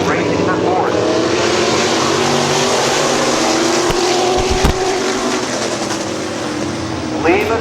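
Race cars at Midvale Speedway roar continuously in a steady, loud engine drone, with a race announcer talking over the noise.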